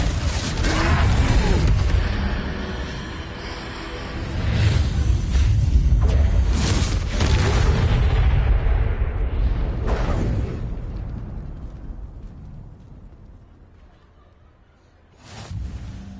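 Fire-blast spell explosions in a Harry Potter video game during a troll fight, with heavy booming blasts and whooshes near the start, a rumbling roar that slowly dies away, and a fresh burst at the end, loud and close.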